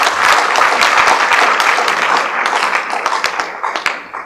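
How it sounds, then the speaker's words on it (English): Audience at a World Kidney Day health event applauding loudly, a dense burst of many hands clapping that thins into scattered individual claps near the end. "we can give a round of applause to God"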